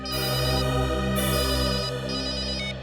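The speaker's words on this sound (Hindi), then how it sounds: "फोन कौन कर रहा था?" A telephone rings in a Hindi crime drama scene set in a Bihar village, its electronic ringtone steady and close for about three seconds, with no voices over it.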